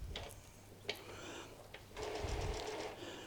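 An Epson WF 2010w printer with a continuous ink supply system priming ink through its tubes, giving soft mechanical ticks and whirring, a couple of sharp clicks, then a louder sustained motor whir in the second half.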